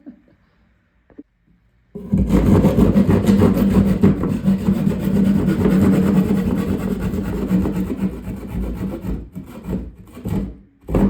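A homemade jab saw rasps through a 2x2 sheetrock square, a sudden start of loud, dense back-and-forth scraping strokes that continue close up, then stutter and break near the end.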